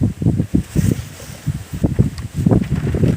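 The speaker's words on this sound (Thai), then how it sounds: "โอ้ เสียงลมได้ท่านผู้ชมเด้อนะครับ" Wind blowing outdoors and buffeting the microphone in gusty low rumbles and rustles, loud and irregular throughout with no speech.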